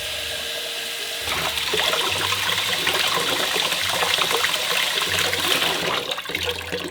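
Water pours and trickles steadily into a rice-washing kitchen gadget, a close, continuous splashing flow that rises after a quiet start and runs on with no talk.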